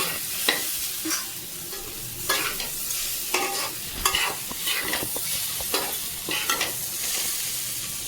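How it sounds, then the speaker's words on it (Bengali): Maggi noodles cook over high flame in a wok, stirred with a fork and metal spatula: a steady loud sizzle broken by repeated scraping, tapping strokes against the pan. "বন্ধুরা কড়াইতে ম্যাগি বানাচ্ছি"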